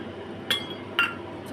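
A spoon clinks twice against a dish while masoor dal with chili and turmeric powder is being cooked at home. The two bright, separate metallic taps sound close over a quiet kitchen background.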